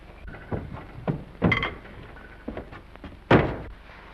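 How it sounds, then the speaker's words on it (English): A door in an old 1937 Hollywood drama closes with a few dull thuds and knocks, the loudest sharp thunk near the end, in a quiet interior. "Will you close this door, please?"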